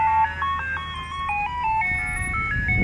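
Ice cream truck jingle playing a steady, tinkling electronic melody of repeated bright notes, fairly loud and continuous, with low rumbling street noise underneath.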